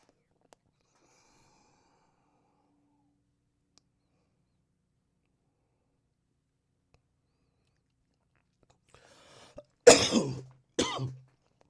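After a long quiet stretch, two harsh coughs burst out close by near the end, the first longer and rougher than the second.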